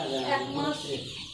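A flock of about a thousand desi Sonali chickens in a two-storey poultry farm house clucks steadily, with dense overlapping calls close by throughout.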